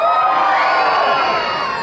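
An audience at a live show for a band screams and cheers loudly and continuously, a dense wash of many voices filling the whole moment.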